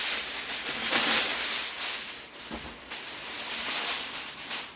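Heavy-duty Reynolds Wrap aluminium foil, an extra-wide roll about 18 inches across, crinkles and rustles up close in a steady broadband crackle, swelling and easing over several seconds with no talking.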